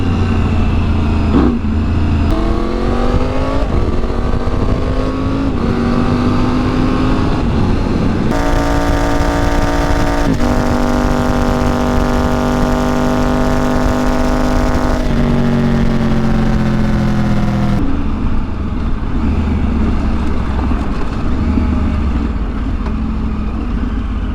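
A 2024 Triumph Tiger 900 Rally Pro with a GPR Furore-X Titanio Nero titanium slip-on exhaust revs loudly and close, rising and falling through several gear pulls with a strong, continuous engine drone and no talking.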